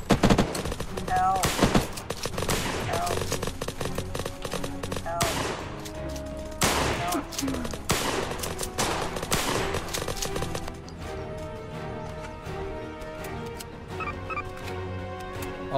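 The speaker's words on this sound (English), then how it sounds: "Firefight." Rapid gunfire fills a firefight in the video game Unturned during a shop roleplay, with dense automatic bursts and single shots that thin out toward the end, partly under voices.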